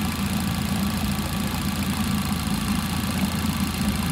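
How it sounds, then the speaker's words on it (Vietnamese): A 2011 Thaco Towner light truck's petrol engine idles close by, a steady low rumble with an even, slightly knocking pulse and no voices. "Máy móc đang nổ luôn nha. Hiện tại em đang cho nổ luôn."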